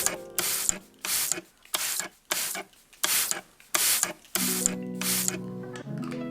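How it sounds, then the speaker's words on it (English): Charlotte Tilbury setting spray misted onto a face in about eight short, sharp hissing bursts with brief gaps between them, close and crisp, with no talking. "now I'm going to spray my face with my Charlotte Tilbury."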